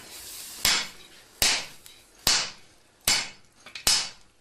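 A master smith hammers a layered pure-steel samurai sword blade, five sharp, ringing metallic blows at a steady, slightly uneven rhythm, each strike loud and close with a short decaying ring, no voices.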